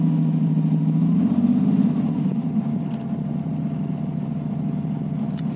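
A 2002 TVR T350C engine runs at a steady close idle, a low continuous rumble with a slight rise near the start, alone without talk.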